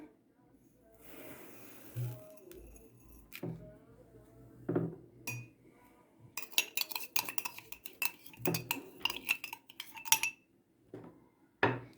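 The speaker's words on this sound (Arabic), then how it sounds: "نخلطوا السوائل كلها مع بعضها" Oil and sugar being mixed in a bowl for homemade biscuits, with scattered clinks and scrapes of a utensil against the bowl coming in irregular bursts, some louder near the end, over quiet room tone and occasional voice.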